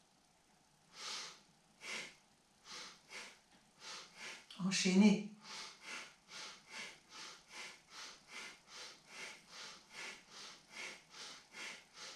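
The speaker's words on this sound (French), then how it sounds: "Juste un petit bruit de nez qu'on renifle" A steady series of quick nasal sniffs during a guided breathing session, about two each second, close and soft, with a brief spoken instruction partway through.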